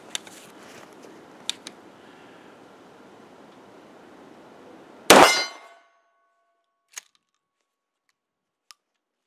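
A single loud report from a Remington 870 shotgun fitted with a new Magpul stock at an outdoor range, a sharp blast that decays quickly, followed by two faint clicks amid quiet.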